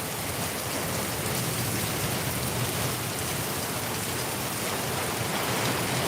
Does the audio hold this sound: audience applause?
no